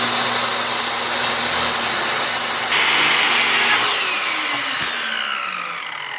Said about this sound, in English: square them up on the table saw